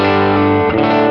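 Electric guitar played through effects, a single sustained distorted chord ringing loud and dense with a slight warble, heard alone for about a second.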